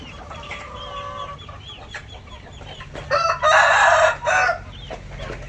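Chickens cluck quietly nearby at a restaurant in Laos, then a rooster crows loudly in one long call before the clucking returns.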